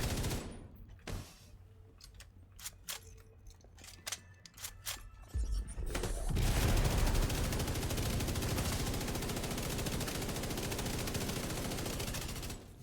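Light machine gun fire in The Division 2, starting with scattered single shots and short bursts, then a long, loud, sustained automatic stream that runs for about seven seconds without a break.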